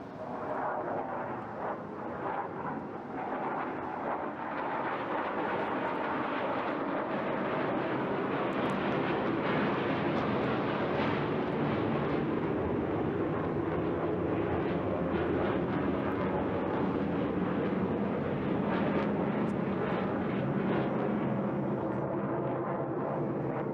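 A Saab Viggen jet with its afterburner lit roars through an air festival display, a loud, rough, sustained blast that swells early on and then holds steady for more than twenty seconds.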